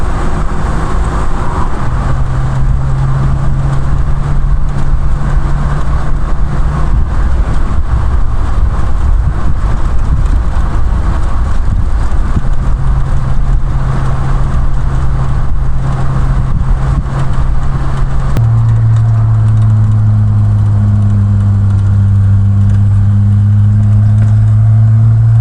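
A 1971 MK2 Triumph Vitesse driving fast on the A606 through Rutland, its engine droning loud and close throughout with steady road roar, the pitch rising through the gears and jumping higher in the last few seconds.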